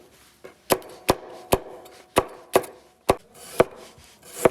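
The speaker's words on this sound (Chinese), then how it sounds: "切点葱姜" Knife chopping scallions and ginger on a wooden board in a home kitchen, eight or nine sharp, evenly spaced thuds, close and clear with no talking.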